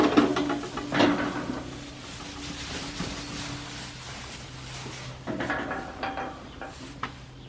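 A livestock pen gate is swung open beside a trailer holding new ewes. A few dull knocks and clanks sound at mid distance, a stronger bump near the start and another cluster later, over a steady low hum.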